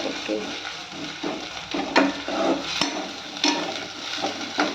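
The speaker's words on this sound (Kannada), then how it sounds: "ಗಾರ್ಲಿಕ್ ಪೇಸ್ಟ್ 2 ಆ್ಯಡ್ ಮಾಡೋದು. ಅದನ್ನು ಚೆನ್ನಾಗಿ ಹುರ್ಕೋಬೇಕು ಫಸ್ಟ್." Garlic paste frying on a low flame for an egg curry, with a soft steady sizzle and occasional scrapes and stirring taps of a utensil against the pan, close and fairly quiet.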